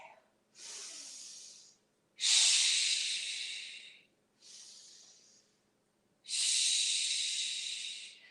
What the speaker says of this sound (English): So use your breath here. Inhale and exhale.